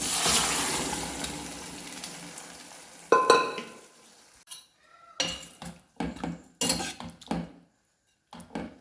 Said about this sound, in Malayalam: വേവിച്ച് വെച്ച ബീഫ് നമുക്ക് ഇതിലേക്ക് ഇട്ട് കൊടുക്കാം